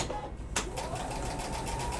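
A sewing machine stitching quilt fabric for a quilt block, starting with a sharp click and then running in a steady, close, continuous whir.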